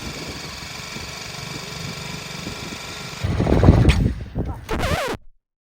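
A motorcycle engine idles steadily during clutch control practice, then rises into a few louder, uneven revving surges before cutting out abruptly and leaving silence.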